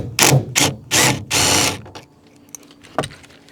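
A rivet nut tool being reversed out of a Dodge ProMaster van ceiling, giving four loud, closely spaced ratcheting bursts followed by faint clicks and one sharp tap near the end.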